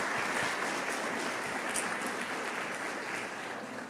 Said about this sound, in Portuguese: Dê um aplauso para essas mulheres aí de Deus.